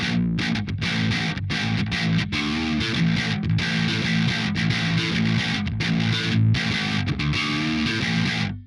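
Electric guitar run through a Helix Kinky Boost effect plays a continuous, dense, driven and slightly distorted line, loud and close with steady sustained chords and only brief dips between phrases, no voices.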